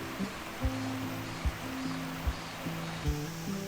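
Steady wash of a flowing mountain stream in Munsadong valley on Dobongsan, Seoul, broad and continuous, with a few faint bird chirps and soft clicks scattered over it.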